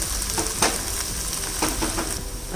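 Ginger garlic paste sautéing in hot oil while being stirred for bread roll filling, a steady soft sizzle with occasional scrapes of a spoon against the pan.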